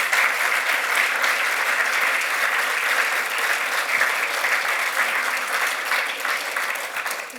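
A large audience applauds at a ceremony honoring publisher Katharine Graham, with dense, sustained clapping filling the room evenly and holding steady throughout.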